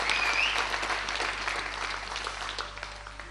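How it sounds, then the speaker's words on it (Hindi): An audience at a live tribute music concert in an auditorium bursts into dense, sustained applause that fills the hall from start to finish, with no talking. "अबे आपको जितनी पसंद आई है ना ये महफिल उतनी तालियां बजाइए।"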